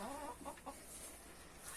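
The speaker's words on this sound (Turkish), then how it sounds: "Horoz da geziyor burada." A few soft, quick clucks from a rooster, faint and somewhat distant, over a low outdoor hiss.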